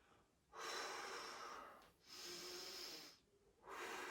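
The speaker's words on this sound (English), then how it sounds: "And breathe, deep breaths in this position." Deep, slow breaths are drawn during a yoga hip stretch, three long airy inhales and exhales in a steady rhythm, close but quiet.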